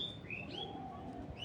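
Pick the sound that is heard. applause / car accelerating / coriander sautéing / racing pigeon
racing pigeon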